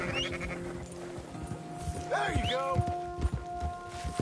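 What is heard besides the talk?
horse neighing and hooves in the video game Red Dead Redemption 2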